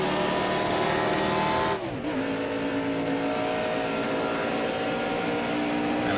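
NASCAR stock car engine from a Daytona racing game, a loud sustained roar with harmonic drone that briefly dips and bogs before climbing back to a steady high-revving howl.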